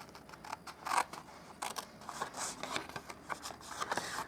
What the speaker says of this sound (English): Just get my scissors in there.